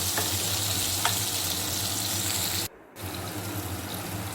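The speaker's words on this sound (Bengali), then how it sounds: "পটলগুলো একদম ভাজা হয়ে গেছে" Pointed gourd (potol) frying in oil in a pan, a steady close sizzle with faint crackles throughout, briefly cut off for a moment near the end before the sizzling resumes.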